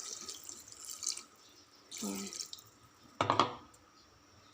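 Water splashes into a cooking pot in a few short pours separated by pauses. One brief spoken word is heard between them.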